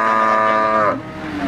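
Cattle at a cattle market give a single loud, drawn-out moo that fades after about a second, followed by faint background noise.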